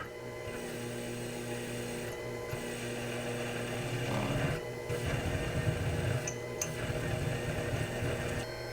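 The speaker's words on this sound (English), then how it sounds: "To locate each of these holes, I'm going to start off with a 3mm end mill." Steady whine of a 3mm end mill boring into metal, with a constant motor hum and a rougher grinding texture as the cut deepens.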